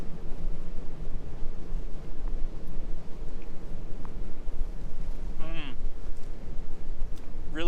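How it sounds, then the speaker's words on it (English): Cold wind buffets a campsite, a loud continuous rumbling gust against the microphone that keeps up throughout, with a brief whistling tone near the end. "It's cold and windy"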